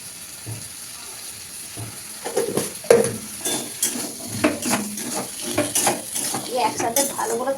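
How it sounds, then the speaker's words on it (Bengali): Potatoes stir-fried in oil with vegetables in a pan, a spatula scraping and clattering against metal with sizzling underneath, quiet at first and then busier, with stirring strokes repeating irregularly. "ধুয়ে রাখা আলুটা দিয়ে ভালো করে একসাথে কষাবে"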